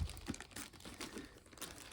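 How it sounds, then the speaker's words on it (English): Plastic bag wrapped around a Diamond Art Club canvas crinkles softly and irregularly up close, a quiet rustling handled for a couple of seconds. "Diamond Art Club puts their canvases in this nice plastic bag"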